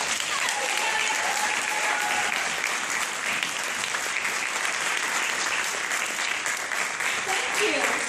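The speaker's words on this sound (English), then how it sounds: "Let's have a round of applause for our contestants" Loud, dense applause from a theatre audience for game show contestants, continuous and even throughout, with a voice briefly audible in the mix.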